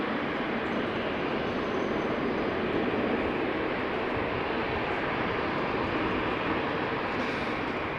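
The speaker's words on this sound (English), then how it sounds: "Emirates 147 is now final" An Emirates 147 airliner on final approach to runway 18 Center at Amsterdam Schiphol Airport gives a steady, broad engine roar that holds loud and unbroken throughout.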